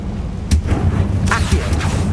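Confringo, an explosive spell in the video game Hogwarts Legacy, bursts out in a sharp blast followed by several rumbling booms and thuds over a low drone, close and loud, with no talk.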